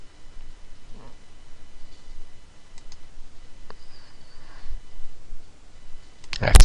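Computer mouse clicking while working in OSU Pro software: a few faint, sparse clicks in a quiet room, followed by a sharp louder click at the very end.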